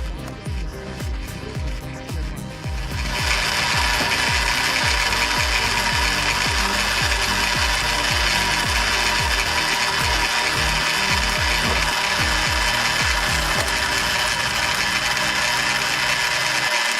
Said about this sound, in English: This rotating homemade splitter operates with carefully controlled speed through a dual reduction gearbox system.